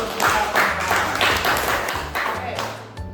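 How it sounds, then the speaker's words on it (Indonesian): Students in a classroom burst into clapping, a run of quick, irregular claps that swell and fade over a few seconds, with voices mixed in. "beri tepuk tangan untuk"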